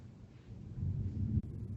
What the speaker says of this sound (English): The storm is perfect.